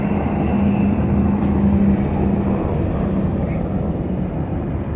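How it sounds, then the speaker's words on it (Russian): Helicopters flying over Las Vegas give a steady, loud low rotor and engine drone with a faint hum, holding at an even level throughout with no talk. "Вертолеты летают"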